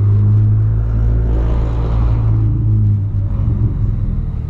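A lowered car idles and rolls slowly out of a parking lot, its steady low engine rumble close and continuous, easing off slightly toward the end.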